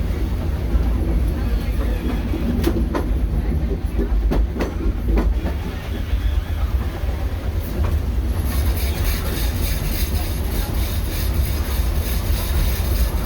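A Disneyland Railroad train rumbles along the rails with rhythmic clicks and clacks, rising into a brighter metallic rattle and hiss partway through.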